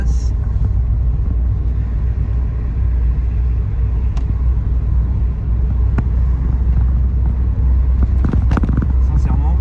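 A Citroën BX turbo diesel car on the move, giving a steady low cabin rumble of engine and road noise with a few small knocks and rattles, loud and continuous throughout.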